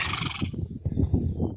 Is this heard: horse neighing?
yes